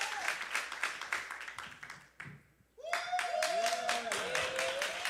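Congregation applause at a church worship service, steady dense clapping that drops briefly, then returns under sustained musical tones and a voice.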